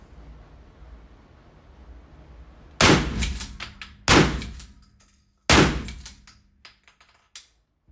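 Three loud, sharp shotgun blasts from a Hunt Group MHX 12-gauge, spaced about a second and a half apart, each followed by a short rumbling decay and some clatter, with background hum between shots.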